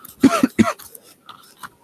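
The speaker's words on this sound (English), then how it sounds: "I'm sick and I have a cough" A short run of harsh, close coughs from a sick person, followed by a few fainter throat-clearing sounds.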